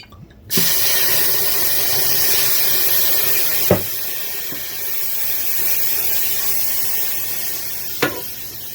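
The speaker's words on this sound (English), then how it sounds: "I've got my pan over here smoking." Hot pan smoking on the stove before onions go in for a marinara sauce, giving a steady close broadband hiss that holds throughout with a couple of brief sharp clicks or taps.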